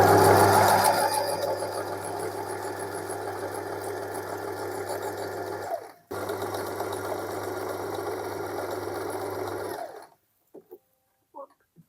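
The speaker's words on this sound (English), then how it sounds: "and then we'll start sewing" A sewing machine stitches the fabric of a circle skirt, running in a steady continuous whir for about six seconds, pausing briefly, then running again for four more seconds before stopping, followed by a few faint handling clicks.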